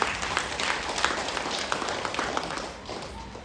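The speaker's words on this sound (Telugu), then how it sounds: "ఇంకొకసారి గట్టిగా చప్పట్లు కొట్టుకుందామా?" An audience at a spiritual lecture session applauds, a dense steady patter of many hands clapping that fades slightly toward the end.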